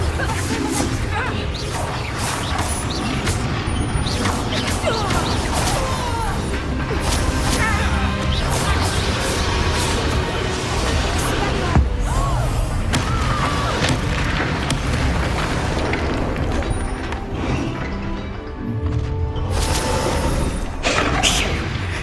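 Confringo fire spells blast repeatedly in Hogwarts Legacy, loud crashing booms and whooshes layered in a dense, chaotic fight over about twenty seconds.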